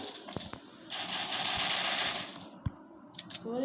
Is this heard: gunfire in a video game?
yes